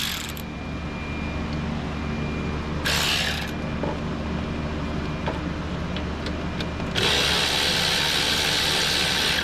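A 12mm stubby ratchet wrench working on a Saturn Outlook during an alternator replacement, with a couple of short bursts of clicking ratchet action over a steady hum, then a longer stretch of ratcheting near the end.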